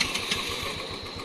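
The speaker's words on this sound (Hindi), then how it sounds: "लेके जा रहे हैं स्कूटी" A scooter engine running close by at night, a steady mid-pitched putter with a faint pulsing rhythm, no speech, brief.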